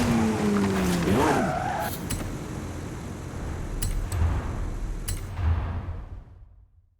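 Volkswagen Golf GTI driving in Forza Horizon 5, a steady engine drone with a rising rev and tire noise near the start, then fading out toward the end.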